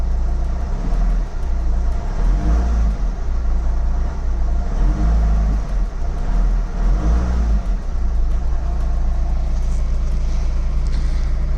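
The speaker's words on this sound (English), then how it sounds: "the engine's been running for a bit, so a couple tiny revs" A 2001 Chrysler Voyager with the 2.5 CRD diesel engine idles steadily, then gets a few short, light revs that swell and fall back, heard close with no talking.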